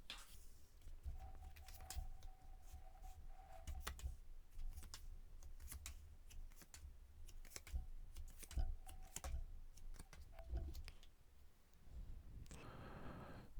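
Tarot cards being shuffled and drawn, heard as soft rapid clicking and riffling with light taps, close and quiet, and a brief rustling flurry near the end.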